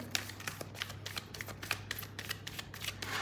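Tarot cards being shuffled by hand, a quick run of soft slapping card flicks in an even rhythm, close but fairly quiet, with no talk.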